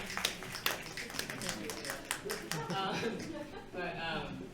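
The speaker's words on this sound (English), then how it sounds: "Let's give like some snaps and some claps to Kimberly Crenshaw" Panel audience at an 'Inclusivity in the Outdoors' event snapping and clapping, a scattered burst of sharp claps and snaps, fairly faint, with talking over the end.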